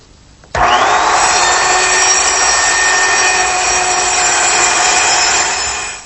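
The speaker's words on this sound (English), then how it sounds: "use a small circular saw, cutting the piece a little bit longer than what I need" Small circular saw cross-cutting long narrow wood pieces, starting abruptly into a loud, steady high whine that holds for several seconds before beginning to wind down, close up with no talk.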